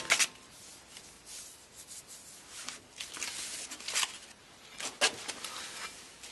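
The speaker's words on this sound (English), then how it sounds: "The next step is to get the surface of the wheel hub very smooth and that there aren't any imperfections." Hand sanding smooths the wheel hub surface of an Abarth 500 during a rear brake disc job, with uneven scratchy rubbing strokes in bursts, close by.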